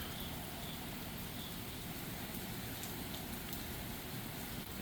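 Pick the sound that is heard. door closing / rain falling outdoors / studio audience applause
rain falling outdoors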